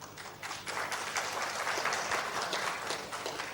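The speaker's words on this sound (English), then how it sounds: "our library official friends really deserve a clap for that" An audience at a public meeting on libraries gives a soft, rolling round of applause that rises after a quiet start and holds steady, heard from a distance at low volume.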